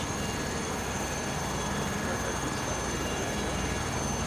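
Several helicopters fly in Microsoft Flight Simulator 2024 over the Andes, producing a constant broadband rotor and engine drone that stays steady throughout.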